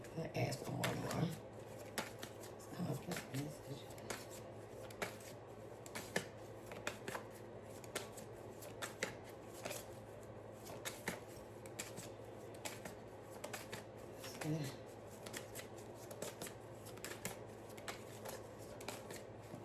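A tarot card deck being shuffled, with soft rapid riffles and taps recurring in quiet bursts, close and faint, with a voice speaking at times.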